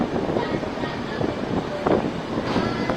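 A train at Asansol Junction, a loud, close, steady rumble and clatter of rolling stock with faint voices mixed in.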